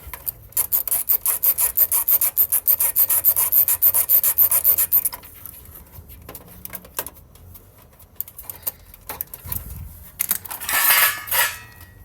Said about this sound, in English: Right now I'm going to focus on removing all these screws.